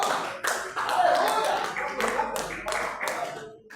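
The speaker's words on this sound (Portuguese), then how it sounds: "Palmas para Jesus!" A congregation at a church service claps briefly in a few uneven bursts, fairly close and moderately loud, with voices mixed in under the clapping.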